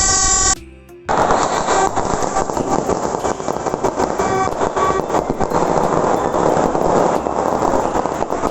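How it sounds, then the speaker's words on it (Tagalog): New Year fireworks outside crackle and pop in dense, rapid bursts like gunfire, loud and continuous for several seconds after a brief lull. "Nood muna tayo ng fireworks sa labas."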